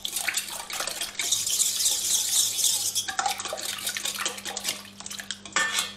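A whisk clatters and scrapes steadily against a bowl while stirring ingredients for a quick, soft brioche dough, close and fairly quiet, with a steady low hum underneath and no talking.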